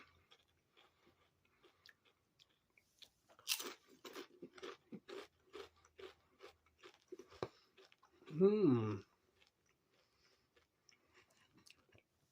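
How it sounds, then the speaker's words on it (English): Kettle-cooked potato chips crunched between the teeth, a close run of sharp, irregular crunches that slows into softer chewing, followed by a brief murmur of appreciation. "They have a bit more crunch to them, probably because they're kettle cooked."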